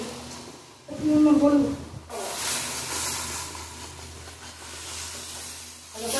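A spice paste of garlic, onion and tomato with ground dried chilli, cumin and salt fries over five-spice tempering in a pan for Aila fish curry. A steady close hiss swells into a brief louder burst, while a voice talks at times.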